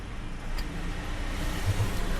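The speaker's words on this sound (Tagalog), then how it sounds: "Medyo dumadami na rin yung sasakyan dumadating dito sa UP Film Center open parking" Steady rumble of cars arriving and idling in the UP Film Center open parking lot, a continuous close engine and traffic drone with no talking.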